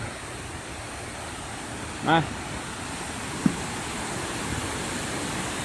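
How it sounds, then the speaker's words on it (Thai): Tad Kuang Si waterfall in Laos gives a steady, soft rushing roar throughout, with a brief spoken word and a single small knock over the wash of water. "โอ้น้ำตก"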